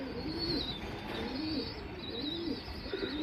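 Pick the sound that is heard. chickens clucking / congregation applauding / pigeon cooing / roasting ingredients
pigeon cooing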